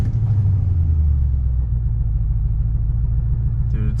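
A car engine starting up and running with a misfire, a loud, steady low rumble with an uneven, stumbling throb throughout, close by and without voices.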